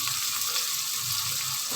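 Water is poured into a cooking pot of tomatoes and spices meant to become a paste, making a steady, close, bright hiss and rush that holds evenly without a break.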